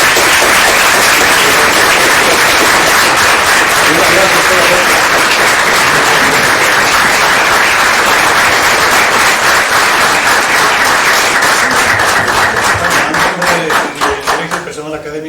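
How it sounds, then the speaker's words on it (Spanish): Sustained loud applause from an academic audience honoring a retired doctor, dense clapping that holds steady and then tapers off near the end. "Doctor, un aplauso por favor."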